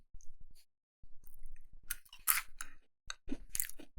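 A crunchy snack chewed close to the microphone, with several bursts of crisp crunching split by short pauses and a few soft mouth clicks.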